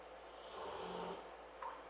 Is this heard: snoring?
yes